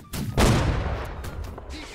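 Musket fire in the Napoleonic-era shooter Holdfast: Nations At War, a sharp shot followed by a long rolling boom that decays slowly, with fainter distant shots after it.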